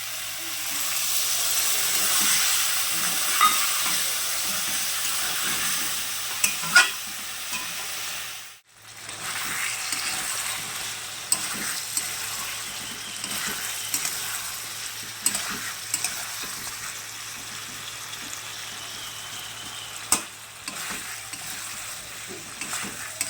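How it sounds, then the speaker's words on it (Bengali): Potatoes and pointed gourd are stirred and fried with spices and a little water in a pan. A steady sizzle and hiss runs throughout, with frequent scraping stir strokes and one brief pause near the middle. "আলু আর পটল দিয়ে মশলাটা ভালো করে কষার জন্য তাতে আমি সামান্য পরিমাণে জল দিয়ে দেবো"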